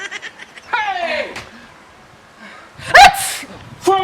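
A person sneezes sharply near the end of a short comedy skit, a loud burst followed by a second quick expulsion, after some raised voices and an exclamation earlier in the clip.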